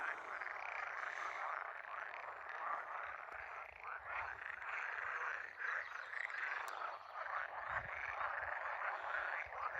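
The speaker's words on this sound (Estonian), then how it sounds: "Huvitavad rohelised konnad on, et ma arvan, et selle asja nimi äkki on rohukonn." A dense chorus of green frogs, likely grass frogs, croaks steadily at a pond, many overlapping calls forming a continuous loud trill with no voices.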